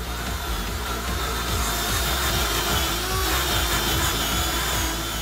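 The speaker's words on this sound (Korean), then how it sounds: "특별히 고안된 전동소를 이용해 볼록볼록한 부품까지 깨끗하게 닦아내는데요" A specially designed electric brush scrubs the bumpy parts of a disassembled washing machine during hot-water cleaning, making a loud, close, continuous motor whir with rhythmic rubbing and scraping strokes.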